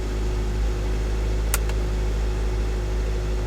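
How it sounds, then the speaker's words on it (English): A Hyundai Ioniq hybrid with a cylinder misfire fault running after start-up, a steady low hum and drone with faint mechanical whir, constant and even, with one brief sharp click partway through. "Got the engine on."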